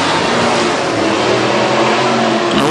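WISSOTA Midwest Modified race cars roaring around the Granite City Speedway oval under green flag, with a loud, continuous wall of engine noise from the close-passing pack throughout.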